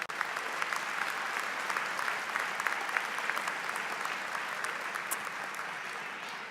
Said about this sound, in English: Give me a round of applause for listening to other points of view